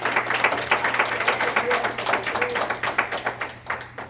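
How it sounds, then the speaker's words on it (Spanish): A church congregation in Miami claps in a quick, steady rhythm, a run of sharp, evenly paced claps over a low background hum, with no voices over them. "denle un aplauso al Señor."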